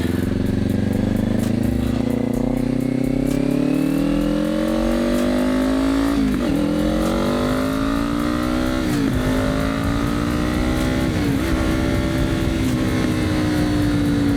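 A Kawasaki Ninja 500 motorcycle ridden with a missed gear shift: a loud, steady engine drone rising in pitch, then several dips and recoveries in revs, with continuous wind rush.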